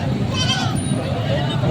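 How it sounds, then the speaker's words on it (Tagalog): A goat bleats briefly amid the crowded din of a goat market, its wavering cry half-buried under constant chatter and people talking nearby. "Mag-iinahang kambing."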